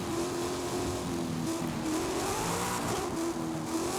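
The Jesko hypercar from Forza Horizon 5 holds a loud, steady, high-revving engine drone with slight pitch wavers, sustained throughout without pause, near and alone.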